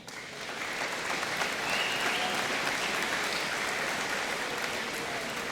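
An audience at a high school senior convocation applauds a Seal of Biliteracy recipient, a steady wash of clapping from many hands that holds evenly for several seconds without voices rising above it.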